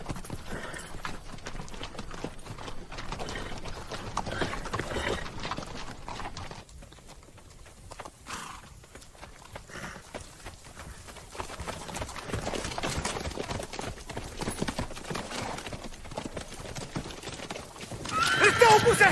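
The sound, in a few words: horses clip-clopping and neighing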